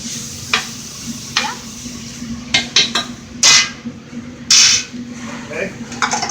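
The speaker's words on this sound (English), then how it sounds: "Onions are cooking, asparagus is cooking." Onions and asparagus cook in a pan for cream of asparagus soup: a loud, close sizzle broken by brisk scraping spoon strokes and clattering knocks against the pan.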